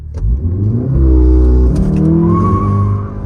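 A Volkswagen Golf R Mk7 with Stage 2 tuning revs and accelerates loudly and close, its exhaust giving off a droning, moaning tone that rises in pitch.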